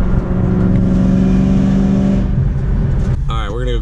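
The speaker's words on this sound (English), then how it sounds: "I love how your exhaust, it's quiet, and then you step on it" A car's exhaust roars hard under acceleration, a loud near drone that rises and then falls away, with a person starting to talk over the last moments.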